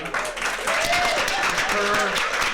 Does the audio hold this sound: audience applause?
yes